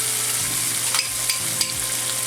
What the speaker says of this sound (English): we're going to add the peppers